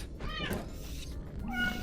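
A cat in the video game Minecraft meows twice, once near the start and once toward the end, in short rising and falling calls over quiet background noise.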